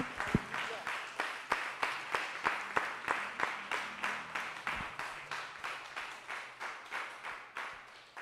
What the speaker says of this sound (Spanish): Le podemos dar un fuerte aplauso al Señor,